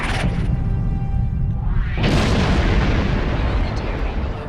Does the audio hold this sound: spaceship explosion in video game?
yes